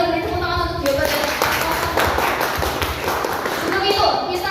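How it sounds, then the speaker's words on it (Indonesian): Audience members at a student presidential candidate debate clap together in a brisk, fairly close round of hand claps, while voices carry on over and around it. "mari kita beri tepuk tangan untuk jawaban dari"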